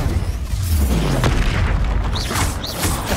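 Loud, rumbling magical blasts from the Expulsion spell in the Hogwarts Legacy game, with deep booming low end and whooshing, crackling effects continuing over a dense combat soundscape.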